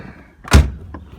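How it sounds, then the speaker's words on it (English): The door of a 1970 Chevrolet Corvette Stingray convertible shuts with a single solid, close thunk, followed by a faint rattle of the latch. "The door kind of swings wide on this one."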